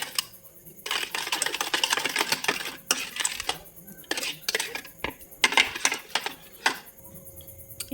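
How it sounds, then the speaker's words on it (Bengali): Spoon clinking and scraping against a glass while stirring sharbat with black salt, a rapid, irregular metallic rattle up close, with someone talking briefly. "এবার এর মধ্যে একটু দিয়ে দেবো বিট নুন আবারও ভালো করে মিশিয়ে নেবো"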